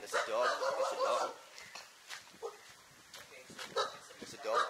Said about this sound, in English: there's a dog barking at me.